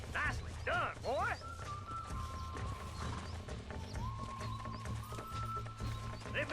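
Horse in Red Dead Redemption, with clip-clop hooves and several close, loud whinnies early on, then lighter hoof sounds under a voice speaking throughout.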